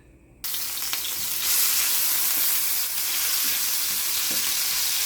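Ginger sizzles in hot oil in a frying pan, a steady loud frying hiss that starts abruptly and carries on without pause, with no talking.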